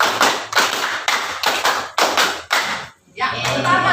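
A group of women claps hands together in a counted rhythm, sharp collective claps arriving in quick groups of sharp beats, followed by a brief pause and then murmuring voices.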